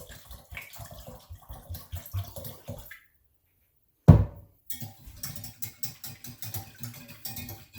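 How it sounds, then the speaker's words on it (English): Orange liqueur mixture for homemade curaçao poured back into its container, a splashing liquid pour in short bursts, with a brief gap and a sharper splash midway before the pouring resumes. "I'm just going to pour this back in here a little bit to start getting it mixed up."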